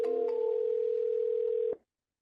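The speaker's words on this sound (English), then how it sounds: "Let's go ahead and dial the number." A telephone dial tone hums steadily and clearly for under two seconds before cutting off abruptly, followed by silence.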